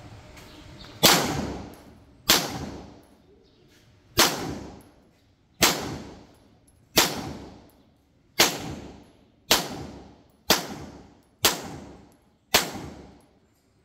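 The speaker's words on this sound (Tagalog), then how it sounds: "Firing!" Ten sharp gunshots are fired at a target 10 meters away on an outdoor range, spaced about a second apart with a decaying ring after each. They are loud and close, with no talk over them.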